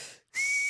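A person blows a single steady, breathy, high whistle tone after a brief moment of silence, with no talking.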